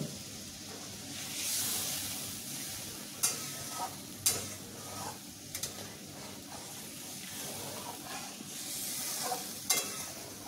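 Water-thinned fish curry masala bubbles and sizzles faintly in a pan, a soft continuous hiss broken by a few small pops and clicks, close up and without talk.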